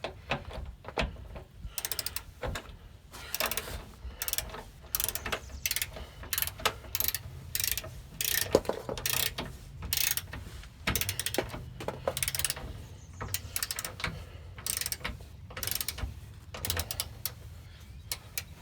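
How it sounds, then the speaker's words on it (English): Ratchet clicking as frame-mount bolts for a TorkLift no-drill truck camper tie-down are tightened, in close, loud bursts of rapid pawl clicks separated by short pauses, with no talk. "Always torque from the end of the bar, or ratchet I mean."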